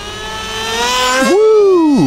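A ZOHD Nano Talon FPV model plane flies past, its small electric motor rising to a loud, close buzzing whine that bends sharply in pitch as it passes, with no voices.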